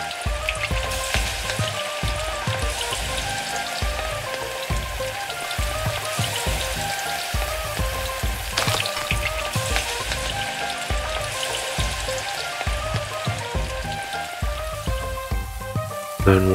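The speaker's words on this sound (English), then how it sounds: "will automatically move and put them in a frying pan" Food frying in a pan in the cooking game Venba: a steady, soft sizzle runs throughout under prominent melodic background music, with no pauses.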